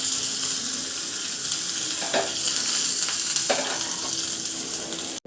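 Mustard seeds, cumin, green chillies and curry leaves sizzle in hot oil for a South Indian tempering, a loud, steady crackling fry with a few sharper pops, heard close up with no talk.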